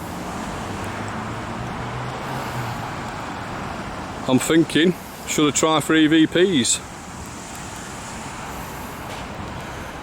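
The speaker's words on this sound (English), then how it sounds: "It's a little bit noisy with the traffic, that's the only problem." Road traffic passes outside St John the Baptist church as a steady, broadband roadway rumble that fills the whole stretch. Someone speaks briefly midway over the constant noise.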